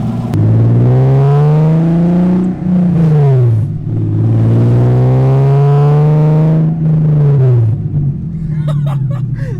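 A small BMW E30 fitted with an S52 engine and open headers drives past, very loud and near, its exhaust droning in long pulls that rise and drop between shifts, with a few clicks at the end.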